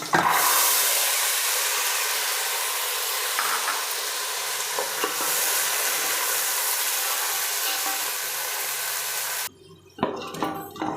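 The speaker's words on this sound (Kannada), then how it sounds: "ಈಗ ಈರುಳ್ಳಿ ಫ್ರೈ ಆಗಿದೆ ಇದಕ್ಕೆ ಬೆಳೆ ಹಾಕ್ತಾಯಿದ್ದೀನಿ" Lentils and fried onions in hot oil give off a loud, continuous sizzle with stirring for most of the stretch, then the sizzle suddenly drops away to quieter clinks and rustles.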